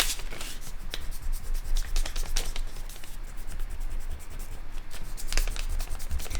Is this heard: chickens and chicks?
no